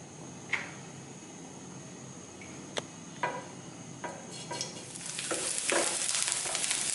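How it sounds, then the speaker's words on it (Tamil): Grated coconut fries in melted ghee with a steady close sizzle that builds louder toward the end, broken by a few sharp clicks and scrapes of a spoon in the pan, with no voices. "நெய் கொஞ்சம் மெல்ட் ஆனோடனே தேங்காய் வறுத்து எடுத்துக்கோங்க"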